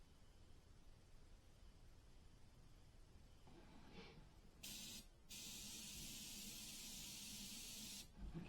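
An airbrush lays a very light mist of blue paint onto a Curtiss P-40 scale model, a steady close hiss that swells in after a few seconds, drops out briefly, then holds on alone.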